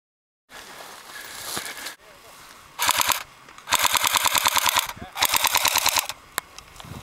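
Bursts of airsoft assault rifle fire during a woodland skirmish, a short volley followed by two longer rapid strings, loud and close, with rustling movement between bursts.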